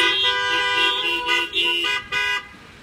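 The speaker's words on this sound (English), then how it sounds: "Let us give a great big horn honking to Preston for leading us." Car horns honk in a loud burst, one sustained blare followed by several shorter toots near the end, with no talk over them.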